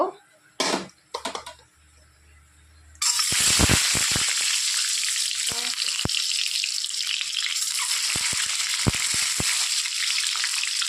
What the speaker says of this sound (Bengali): তেল গরম হয়ে গেছে ডিমগুলোকে একটু ভেজে নেব